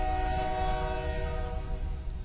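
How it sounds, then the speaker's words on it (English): A passing train sounds its horn in a long steady blast, loud and sustained over a deep rumble of the cars rolling by, with no voices. "that train's going to be really freaking loud"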